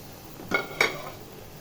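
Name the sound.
pumpkin leaves poured into cooking pot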